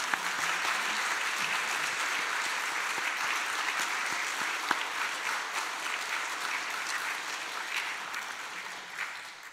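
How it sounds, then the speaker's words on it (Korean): A church congregation applauds its Sunday school teachers with sustained, even clapping from a large room full of people that lasts nearly ten seconds and fades slightly at the end. "우리 교회학교 수고한 선생님들 꼭 이 시간 우리 박수로 한번 격려했으면 좋겠습니다"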